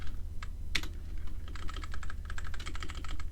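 Fingers type Java code on a computer keyboard in a programming lesson, with irregular bursts of crisp key clicks that grow into a rapid, dense run of keystrokes, close and clear.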